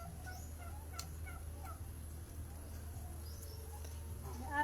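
Turkeys gobbling on a guava farm, several short calls scattered over a steady low hum and background noise, fairly distant and faint.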